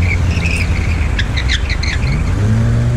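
A car driving on a bare wheel with no tyre gives a loud, steady rumbling drone up close, with high chirping insect or squealing tones over it.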